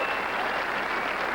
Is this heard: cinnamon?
no